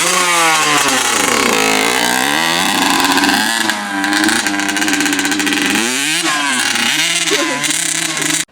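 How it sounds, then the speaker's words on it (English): A small two-stroke Honda CR85 dirt bike being ridden nearby, its high-pitched engine loud and buzzing, rising and falling repeatedly as the throttle opens and closes. "Little CR85. Pretty good little bike"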